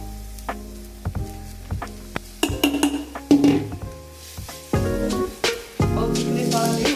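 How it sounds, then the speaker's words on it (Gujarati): Besan chilla batter hits a hot oiled pan on the stove and sizzles in short bursts that swell and fade, with light clinks of utensils and a steady musical tone running underneath. "બેટરને આપણે નાખીશું ધીમા હાથે."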